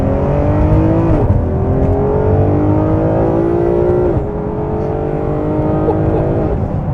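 A Ferrari 599 GTO V12 accelerates hard from inside the cabin, its loud engine note climbing steadily through the revs, dropping with a gear shift, then rising again.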